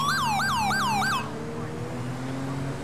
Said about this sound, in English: cut the sirens and the lights now.